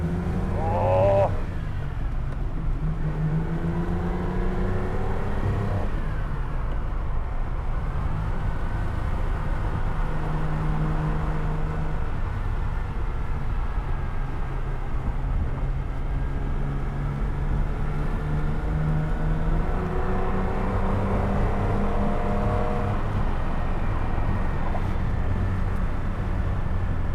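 A 1973 Ferrari Daytona engine drones steadily from inside the car while driving, a loud low rumble with rising and falling harmonic tones as it shifts through the revs.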